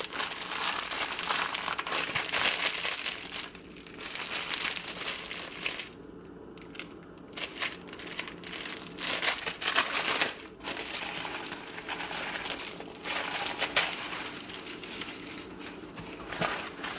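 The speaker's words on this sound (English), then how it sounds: "So I'm just going to open my tissue paper." Plain white and Valentine's Day tissue paper is unfolded and crinkled close by for an edible bouquet, a steady crackling rustle lasting most of the time with a brief lull partway through and no talking.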